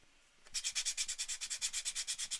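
Wood being sanded by hand with P100 sandpaper for pyrography prep: a close, rhythmic scratching of about twenty quick back-and-forth strokes, starting after a brief quiet moment.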